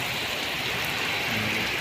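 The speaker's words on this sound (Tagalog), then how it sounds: "dahil malakas ang ulan" Heavy rain pours in a continuous, dense hiss with no breaks, loud and close, as if falling on the road and surfaces around a moving vehicle.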